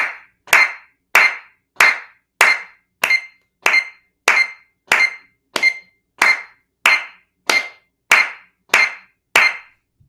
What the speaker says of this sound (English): tap your foot and clap your hands in time